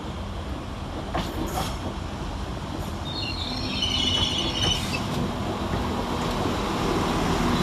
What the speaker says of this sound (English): Arriving some 5 minutes late is 195014 with the 1237 Northern service from Leeds to Lincoln Central